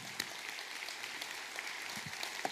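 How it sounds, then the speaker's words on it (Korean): Congregation at a Sunday worship service gives a short round of applause, a soft, even patter of clapping heard from a distance, with a few sharper claps standing out. "우리 하나님께 감사와 영광의 박수 올려드리겠습니다."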